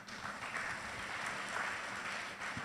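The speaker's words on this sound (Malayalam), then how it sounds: "കൈയടിച്ച് കർത്താവിനെ സ്തുതിക്കാം." Hands clap in praise from a church congregation during a sermon, a soft, fairly distant, continuous patter of many claps with no talking.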